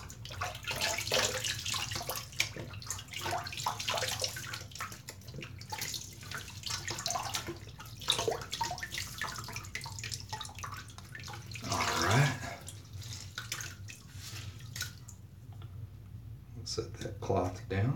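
Tap water runs and splashes at a sink as a washcloth is dampened before shaving, a steady close trickle with brief drips, while someone talks.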